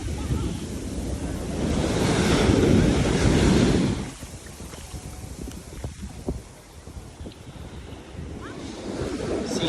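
Ocean surf rolls onto a beach at low and high tide, a broad wash of breaking waves that swells loud early on and then settles into a steadier hiss, with gusty wind buffeting the microphone.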